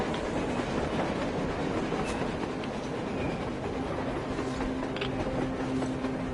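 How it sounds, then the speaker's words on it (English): A train passes on the surface in the video game Metro Exodus, giving a steady loud rumble with rhythmic wheel clatter and faint metallic squeals, with no talk. "A train! A damn train on the surface!"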